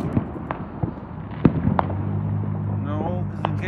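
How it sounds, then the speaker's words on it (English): July 4th fireworks burst as a series of sharp, fairly distant pops and cracks, irregularly spaced, with people talking in the background. "I just go over so I can see the fireworks over in Selwood."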